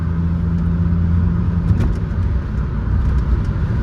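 A 2004 Chrysler Crossfire engine hums steadily from inside the cabin while driving, a low continuous drone with road rumble and no talking.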